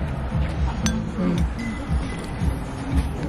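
Glasses clink together in a toast during a birthday trip, with a couple of bright, brief chimes rising over murmuring voices and room noise.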